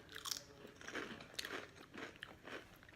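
Thick corn crisps, shaped like small taco shells and smelling of habanero salsa, crunching loudly between the teeth. The bites and chews come in a steady, close run of about six bursts with no talking.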